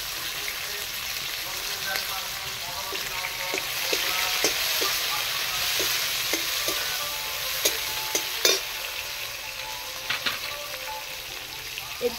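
Chopped tomatoes go into hot oil with browned ginger in a pan, giving a steady loud sizzle broken by frequent scraping stirs and crackles.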